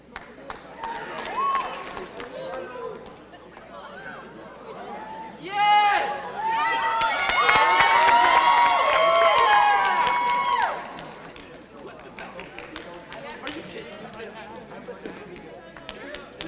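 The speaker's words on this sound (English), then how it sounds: "So let's all give a round of applause for Micah." A school talent-show audience claps and cheers in a loud burst lasting several seconds, with crowd noise swelling and then fading back into chatter; voices can be heard throughout.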